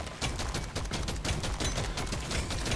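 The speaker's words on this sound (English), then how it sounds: "We are firing as we're mining." Rapid, continuous gunfire rattles nonstop while mining in the Deep Rock Survivor video game, loud and dense, with overlapping shots and no pause or talking.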